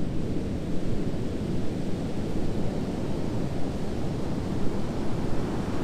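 Stormy Pacific Ocean surf churned up by a Pacific Northwest bomb cyclone, with wind buffeting the microphone: a dense, steady roar of crashing waves and gusts that swells and eases without pause, close and loud, no voices.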